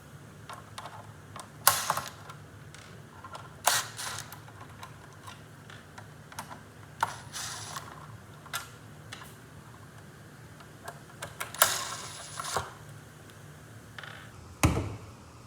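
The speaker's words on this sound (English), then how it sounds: "Remove the 4 T10 Torx bits located here, here, here," Small T10 Torx screws being loosened from a BMW E90 ashtray assembly, with sparse irregular clicks and ticks of a driver and handling scattered over quiet background.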